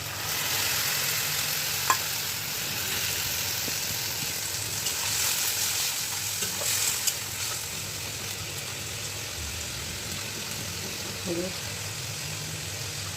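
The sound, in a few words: spice paste being stir-fried in a pan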